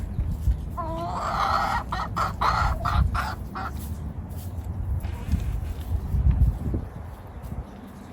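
Several hens cluck and squawk loudly in a rowdy burst, followed by scattered softer clucks and rustling nearby.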